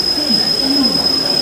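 A train pulling out of New Delhi station, heard from inside a carriage as a steady rumble with a faint wheel squeal and a thin high whine.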